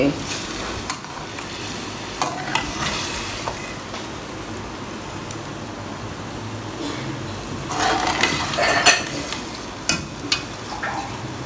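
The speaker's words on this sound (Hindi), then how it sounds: "अब हम इसको खूब अच्छे से भूनेंगे।" Biryani masala with chicken sizzles steadily in a pan while being stirred and fried, a continuous close hiss broken by scraping strokes and a louder burst of stirring near the end.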